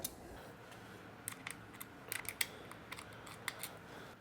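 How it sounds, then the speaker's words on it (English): Small metallic clicks and ticks from a 4 mm hex tool loosening the headlight bolts on a Yamaha XSR900 motorcycle, quiet and close, with scattered sharp taps over a faint background hiss. "Use the 4 millimeter hex tool on the bolts on either side of the headlight."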